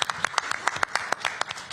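Brief, fairly quiet clapping at a city council strategy session, with a handful of separate claps in an irregular rhythm, as if only a small group is applauding.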